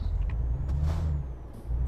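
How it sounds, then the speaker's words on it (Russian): Air brake hiss from a truck in Euro Truck Simulator 2, a short sharp release of compressed air near the middle over a steady low diesel idle, close and fairly loud, with no talking. "Включен стояночный тормоз."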